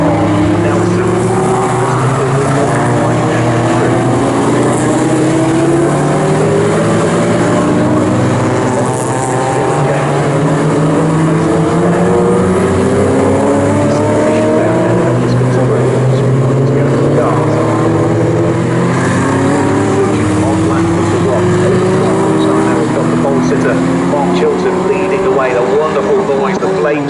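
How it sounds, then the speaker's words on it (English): A Nissan Skyline race car in a Future Classics race at Snetterton passes the start-finish line, its loud engine note sweeping through repeated rising gear pulls with other cars, under continuous race commentary. "Nissan Skyline heads over the start-finish line, leading the race so quick in a straight line is that car"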